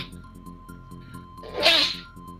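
A single sharp human sneeze bursts out midway, loud and close, over a quiet bed of light, bouncy video game music from Donkey Kong Country 3.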